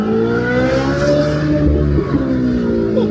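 A Chevy-engined Ferrari revs hard as it speeds past up close, a loud, continuous engine roar with a rising and falling pitch through the pass and no voices.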